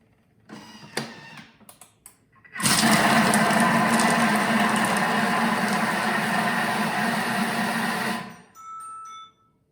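A Thermomix blends pea guacamole at speed 5. A few light clicks come first, then a loud, steady motor roar runs for about five and a half seconds and cuts off abruptly.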